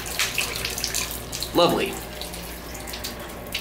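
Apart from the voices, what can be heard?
hotel shower running water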